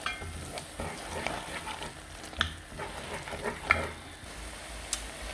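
Tomato paste sauce being stirred in a pan, a steady soft scraping and gentle sizzle throughout with a few brief clinks of the utensil against the pan.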